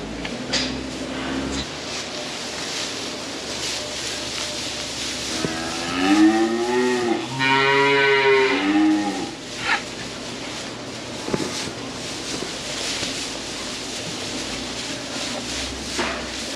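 Young calves standing on real straw for the first time in a farm shed; one loud, drawn-out moo rises midway through, with quieter shuffling and a few thumps around it.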